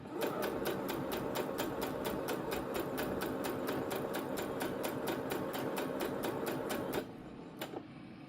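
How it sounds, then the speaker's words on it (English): A sewing machine stitching a fabric scrunchie, running in a fast, even rattle of needle strokes for about seven seconds before stopping, followed by a couple of soft mechanical clicks. "Put the needle back up, and I continue sewing."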